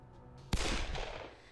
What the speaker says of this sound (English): who in turn was interrupted by the sudden report of a gunshot